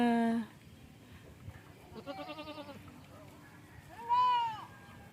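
Goats bleat nearby in La Union, Philippines, one long bleat at the start, a wavering series in the middle, and another loud bleat near the end.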